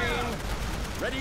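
Machine gun fire in the Great War Western Front game, rapid distant rattling bursts under a wash of battlefield noise and tonal game sounds.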